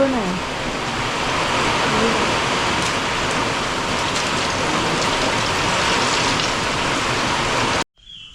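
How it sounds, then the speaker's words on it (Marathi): Heavy, steady storm rain pours down loudly and continuously in Ratnagiri, a dense roar of water with no pauses, ending abruptly at the very end. "जोरात पाऊस आलाय वादळ"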